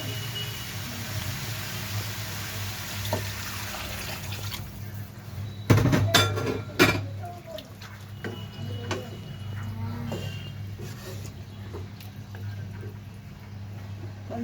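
Hot water is poured into a pan of frying cauliflower, giving a brief splashing hiss midway over a steady low background hum that settles back to quiet bubbling.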